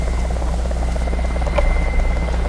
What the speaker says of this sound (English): Tell me that chopper isn't... Oh, he's coming right for me.